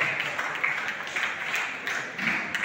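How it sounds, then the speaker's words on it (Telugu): Audience applause at a felicitation ceremony for Vemana Jayanti in Modukuru village, a steady dense wash of clapping at moderate distance running throughout without clear breaks. "కరతాళ ధ్వనులు రావాలి, చప్పట్లు,"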